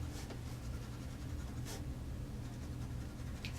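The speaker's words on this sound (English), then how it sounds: "So I find that the crayon works nicely on there." Soft, scratchy strokes of crayon on paper, a few faint rubbing passes over a low background hum.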